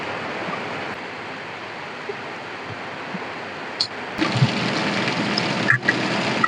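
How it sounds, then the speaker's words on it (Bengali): Steady rain pours down as a continuous hiss, swelling louder partway through with a few brief knocks and taps over the downpour. "বৃষ্টি বৃষ্টি ভালো লাগে না।"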